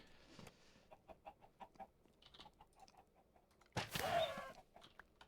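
Chickens clucking in a Minecraft-style survival video game, a series of short, sparse clucks at moderate distance, ending in a louder burst of flapping or squawking near the end.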